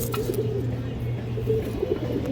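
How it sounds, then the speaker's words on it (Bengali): A pair of red Muslodom pigeons, about one hand in size, with the male giving low, throaty coos that repeat steadily close by against a faint background hum. "এই দেখেন দর্শক নরের ডাক দেখেন"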